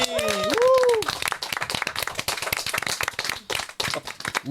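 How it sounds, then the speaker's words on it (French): Audience applause at a French talent show: brisk, crisp clapping from many hands, loud and uneven, opening under a brief sung or spoken voice and continuing on its own. "Un tonnerre d'applaudissements."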